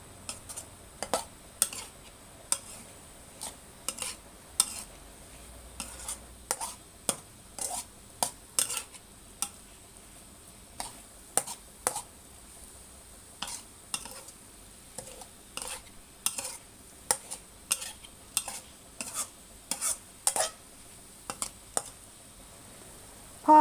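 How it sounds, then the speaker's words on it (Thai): Pork belly is stir-fried with shrimp paste in a pan, a spatula scraping and clinking against the metal in irregular strokes over a faint sizzle, close and fairly quiet, with no talking. "ผัดให้หมูสุกเลยนะคะ"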